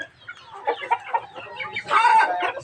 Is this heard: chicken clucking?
yes